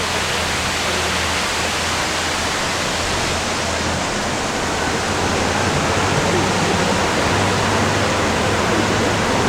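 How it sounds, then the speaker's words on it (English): A man-made fountain on the San Antonio River gives a steady, dense rush of splashing water, loud and unbroken throughout, with a low engine hum underneath. "we'll sail by this fountain, which is also man-made"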